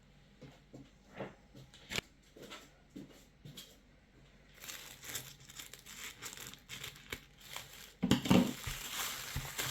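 Paper crinkles and rustles close by while a parcel wrapped in gingerbread-print paper is opened with scissors, soft scattered handling at first, then louder crumpling and tearing toward the end.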